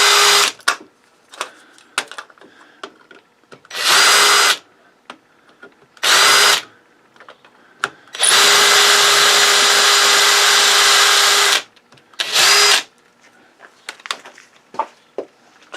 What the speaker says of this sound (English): we're gonna drill out the rivets